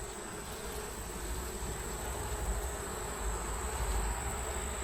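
Honey bees hum around a hive frame, a steady dense buzz with no breaks, close and fairly faint under a constant background hiss.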